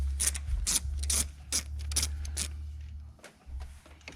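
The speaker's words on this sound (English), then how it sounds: "you're going to need a 10mm socket to unscrew the retaining bolt" 10mm socket on a ratchet unscrewing a retaining bolt on a Nissan Rogue engine, several quick close clicking ratchet strokes in uneven bursts over a low steady hum.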